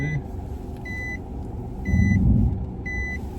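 A car's engine rises into a short, moderate rev as the driver presses the gas pedal during a parking manoeuvre, under a steady low rumble, while a parking-sensor beep repeats about once a second.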